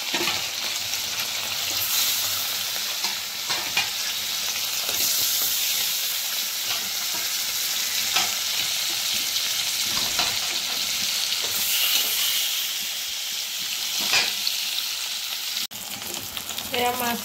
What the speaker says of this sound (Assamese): মিঠাতেলখিনি গৰম হ'ব দিয়া হৈ গৈছে আৰু এতিয়া মাছ ফ্ৰাই কৰিব